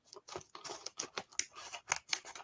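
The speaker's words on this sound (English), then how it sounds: "I got scissors here. I better take scissors." Scissors snip and tear at packaging with quick, uneven cuts and crinkling, fairly quiet and close.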